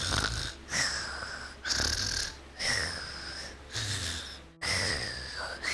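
A person imitates snoring with the voice, giving five long, loud rasping snore sounds in a slow, regular rhythm, each separated by a brief pause.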